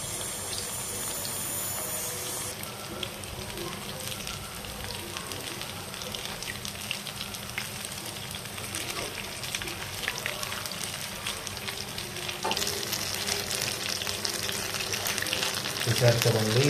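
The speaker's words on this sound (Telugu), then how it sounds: "ఇలా మంచి గోల్డెన్ షేడ్ వచ్చేంత వరకు కూడా ఫ్రై చేసుకోవాలి" Cheese balls deep-frying in hot oil in a kadai, a steady close bubbling sizzle that holds throughout and swells slightly louder near the end.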